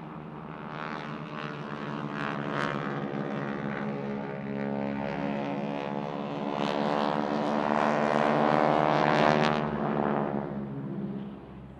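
A Breitling Wingwalkers biplane performs an aerobatic display at a seaside air show, its radial engine droning loudly with a rich buzzing tone that rises and falls as it passes and manoeuvres, with no talk.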